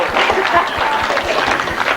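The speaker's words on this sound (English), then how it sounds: "I think a round of applause for Duncan Solo." Sustained, dense applause from a spectator crowd at a grasstrack motorcycle racing event as rider Duncan is honoured, loud and continuous throughout.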